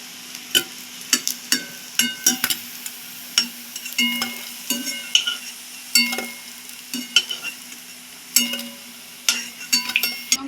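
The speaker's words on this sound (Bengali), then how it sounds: "তোমরা এরকম ডিপ ফ্রাই করে খাবি তো না এই যে লাল লাল করে ভাজা হয়ে আসছে" Soybean muitha deep-fries in oil to a reddish colour, with a soft continuous sizzle broken by repeated sharp clinks and scrapes of a utensil against the pan as the pieces are stirred and turned.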